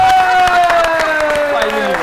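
Applause from a television comedy show's studio audience, dense clapping mixed with crowd noise and cheering, with a sustained tonal sound and voices running over it throughout.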